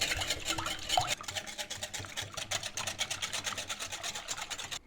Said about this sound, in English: I'm going to mix the milk with eggs